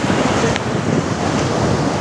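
Sea waves and wind noise during a motorboat ride out to an island, a loud, steady wash of surf and buffeting air filling the whole clip with no talk.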